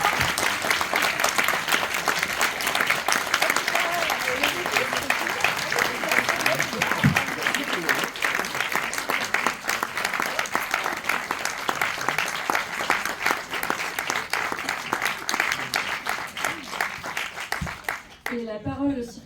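An audience at a Korean film festival gives sustained, full applause as guests are called up to join the host, dense clapping throughout with voices mixed in, cutting off near the end.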